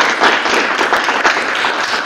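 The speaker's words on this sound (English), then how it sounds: "let's give a round of applause to Ms." An audience at a school board meeting gives a brief burst of applause, dense clapping from many hands, loud and close throughout the short moment.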